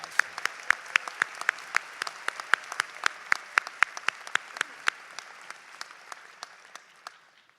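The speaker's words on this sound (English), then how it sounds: "Please give them a warm round of applause." A commencement audience at a law school ceremony applauds the Brooklyndian Quartet, the claps loud and close at first, then thinning and fading out over several seconds.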